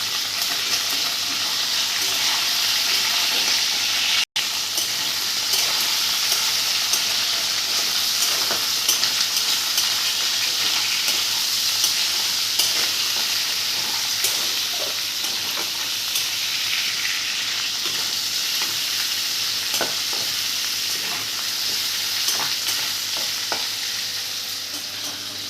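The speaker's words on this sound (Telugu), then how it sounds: "పచ్చి వాసన పోయే వరకు రొయ్యలను అయితే వేయించుకోవాలి" Prawns fry in a pan with a steady, loud sizzle that runs continuously for the whole stretch, with occasional light crackles and stirring sounds and no talk.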